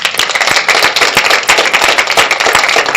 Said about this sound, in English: So I just want to give you a round of applause for that.